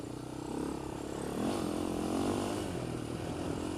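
A Polaris Outlaw 525 ATV spinning donuts, its engine buzzing and revving at light throttle, the pitch wavering up and down as it circles, loud and close with no voices.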